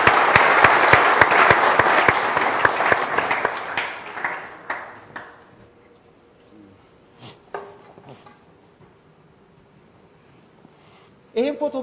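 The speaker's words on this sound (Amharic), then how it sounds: "እባካችሁ አጨብጭቡ" A studio audience claps loudly and steadily for about four seconds before the applause thins into scattered claps and dies away, followed by quiet with a brief voice and a final short burst.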